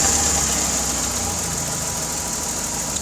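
A car engine with a vacuum leak runs steadily at idle, a loud, even rumble with a faint knocking texture and no pauses.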